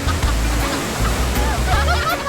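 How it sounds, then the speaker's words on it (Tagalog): Waves break and wash along a Philippine shoreline in a steady, close rushing surge with low rumble, while voices talk faintly over the surf. "Ah, may alon!"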